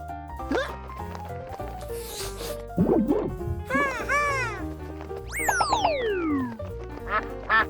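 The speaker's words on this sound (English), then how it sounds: "Duck." Cartoonish duck quacks in a toddler animal-learning segment, several bright, springy bursts and a swooping whistle-like call over a light, bouncy musical backing.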